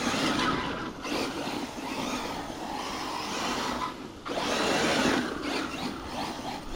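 Scorched RC Mojave RC car fitted with inner fender liners driving over leaves, dirt and sand in a backyard, a continuous buzzing motor and tire rumble that dips briefly then surges again, fairly close, with no talking.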